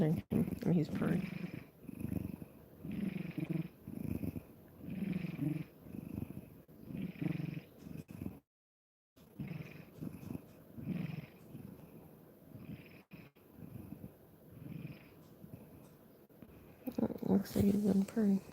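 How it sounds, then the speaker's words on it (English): A sleepy house cat purrs up close in a continuous pulsing rumble that runs throughout, with a short dropout midway and people speaking softly at times. "I mean, he's purring."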